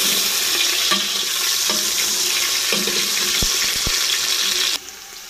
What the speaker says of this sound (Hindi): अब हम इसको प्याज को भून दें।